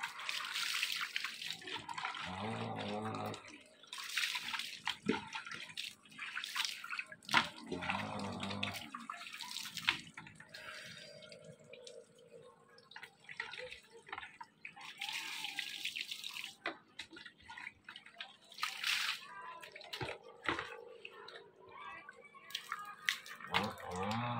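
Water splashes and pours while someone bathes in the cold, in irregular bursts and trickles over a quiet background, with no one talking.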